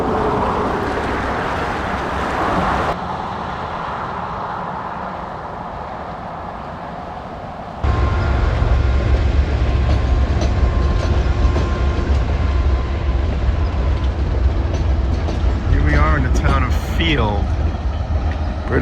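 A train rumbles past near Kicking Horse in British Columbia, a loud sustained rolling roar with rattling wagons that grows heavier partway through, with some chirping near the end.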